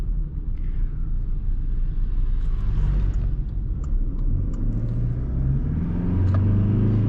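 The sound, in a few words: Toyota Hilux 2.4 150hp accelerating while driving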